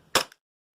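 A single sharp crack from a Walther PPQ gas blowback airsoft pistol, made by VFC, with a quick, fainter mechanical click just after it, then silence.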